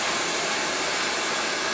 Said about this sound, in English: Take my blow dryer